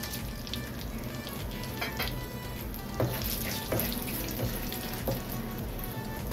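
Whole spices (bay leaves, dried red chili, cinnamon, cloves, cardamom, black pepper) frying in hot oil for a Bengali chicken dak bungalow curry give a steady close sizzle with occasional sharp crackles and pops.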